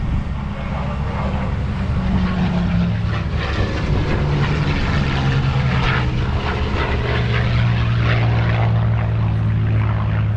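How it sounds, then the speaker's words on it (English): P-51 Mustang fighter performing a slow roll at an air show, its propeller engine a loud, sustained droning roar that shifts slightly in pitch as it passes, with crowd noise underneath. "Watch now as he comes from the left and shows you the slow roll capability of this phenomenal fighter"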